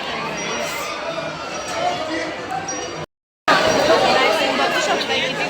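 A large crowd of devotees at a busy temple in Akkalkot fills the air with dense, continuous chatter and overlapping voices, close by, broken once by a brief silent gap midway.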